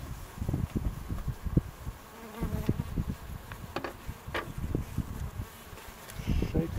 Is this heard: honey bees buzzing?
yes